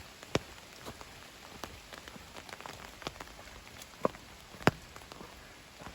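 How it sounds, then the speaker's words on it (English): Steady rain patters on a forest trail in the Smoky Mountains during a hike, a dense close hiss broken by a few sharp drops hitting nearby surfaces, with no voices. "The rain's come in, and we got to make sure that we're on the right trail."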